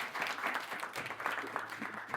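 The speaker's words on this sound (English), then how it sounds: "Clap it up for yourselves." A church youth audience claps together in dense, continuous applause, fairly distant and soft, filling the moment without a break.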